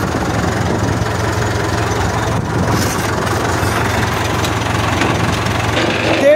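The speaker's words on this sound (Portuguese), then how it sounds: "Terceira reduzida. Trator trabalhando em 1600." A tractor engine runs steadily at about 1600 rpm in third reduced gear while harrowing a bell pepper field, a loud, continuous low rumble with no speech over it.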